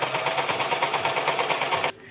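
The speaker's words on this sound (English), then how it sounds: "I'm just going to top stitch this all the way around" Sewing machine top-stitching a custom belt with button thread, a steady loud rapid whirring stitch run that stops abruptly near the end.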